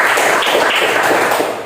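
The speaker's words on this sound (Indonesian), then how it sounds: "kita tepuk tangan dulu" Group of students clapping together in a classroom, a dense, steady wash of applause lasting under two seconds and fading at the end.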